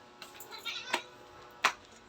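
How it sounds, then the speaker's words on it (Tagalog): A house cat meows a few times inside a dark home, short close cries with a brief sharp one near the end and no talking over them. "Ayan ang aking pusa."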